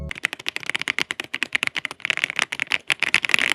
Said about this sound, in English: That sound right there is from the Otemu white switches that this keyboard has